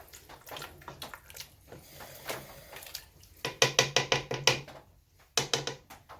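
Chili stirred with a utensil in a pot on a wood stove, a run of scraping knocks against the pot in a quick rhythm, close and moderately loud, with brief pauses and no talking.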